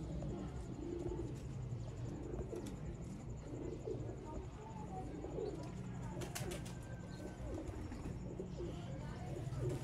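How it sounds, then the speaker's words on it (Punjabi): Sialkoti black-faced pigeons coo softly in a loft, their faint low calls blending into steady background noise, with a few brief sharper clicks. "ਇਹ ਪੂਰੇ ਕਬੂਤਰ ਦੇਖੋ ਦੋਸਤੋ ਸਿਆਲਕੋਟੀ"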